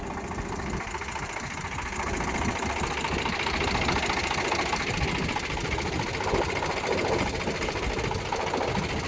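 An Eicher tractor engine runs with its double PTO fully engaged, a dense, steady mechanical clatter and knock that continues throughout at close range, with no voices.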